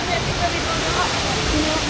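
Waterfall at a hiking spot near Taipei, heard as a constant broadband rush of falling water, fairly loud and steady throughout.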